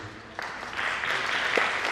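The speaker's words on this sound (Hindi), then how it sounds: "तालियों की कोई ज़रूरत नहीं है।" A burst of audience applause at a Sufi music concert: dense, steady clapping that swells slightly and holds at a moderate level throughout, with no voices.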